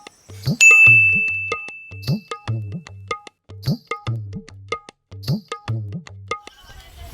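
A mobile phone message notification ding sounds repeatedly in a Hindi action comedy sketch, a run of bright chimes over a steady rhythmic musical pattern, loud and close, with a long sustained tone early on.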